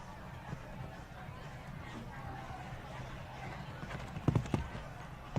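Horses' hooves thud and clip over the turf during a show jumping round at a five-star grand prix, a steady outdoor murmur underneath, with a brief cluster of louder hoof strikes near the end.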